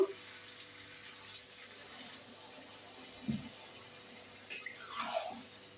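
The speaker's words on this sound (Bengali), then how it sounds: "সামান্য একটু জল দেব।" Water is poured into a pot of potato curry (aloo dum) cooking on the stove, a faint, soft splash and trickle over low kitchen background noise.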